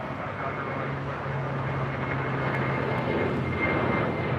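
A jet airliner on its takeoff roll from runway 25 Right at LAX, a steady broad engine roar holding loud and even throughout with a low droning tone underneath.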